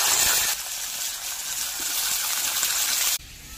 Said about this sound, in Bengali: তেলে ফোড়নের পরে ধুয়ে রাখা পাঁচমিশালি সবজিগুলি দিয়ে দেবো তেলে